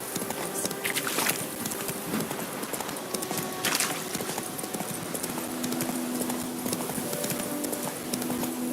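Hooves of Roach, the horse in The Witcher, clip-clop steadily at a walking pace, close and clear over a busy game soundscape, with a few brief higher calls and no talk.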